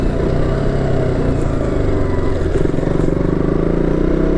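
A KTM Duke 200 motorcycle engine running while riding at around 45 km/h, a loud continuous low drone with steady throttle and some rattle, heard close up without talk.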